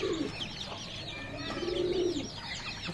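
A paralyzed pigeon coos softly in a low, rolling warble, repeated a couple of times close by, with faint chirps in the background.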